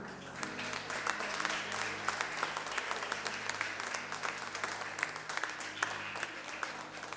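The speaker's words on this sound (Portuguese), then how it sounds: "Aplaude ao Senhor aí." Church congregation applauding during a worship service, sustained moderate clapping that blends into a dense wash alongside a low held musical tone and some background voices.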